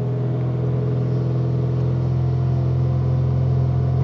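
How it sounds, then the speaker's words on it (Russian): A VAZ 21099 car engine runs steadily just after starting, a loud, close, constant idle rumble with no talking over it. "Машина завелась."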